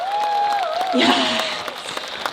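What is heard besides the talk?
audience applause at a live concert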